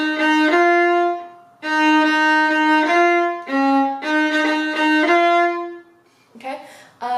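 Viola playing a syncopated passage from a song, bowed notes in short snappy phrases separated by brief pauses, close, clear and loud, with no speech.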